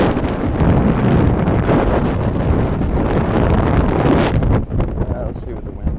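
Steady wind buffeting the microphone on the water during a sailboat race, a broad continuous roar that holds loud for several seconds before easing slightly near the end.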